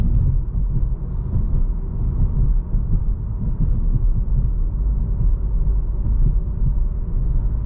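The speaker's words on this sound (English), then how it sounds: "going over the bumps, you know, you can hear them a little bit because of the skinny sidewalls and the tires" A 2021 VW Golf GTI with skinny-sidewall tires rolls over road bumps, heard from inside as a steady low rumble of road and tire noise with dull thumps blended into the drone.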